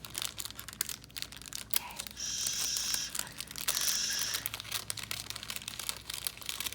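Scissors cut open a pizza, giving two longer crinkly snipping passes with tearing texture, close and fairly quiet, with no voices over them.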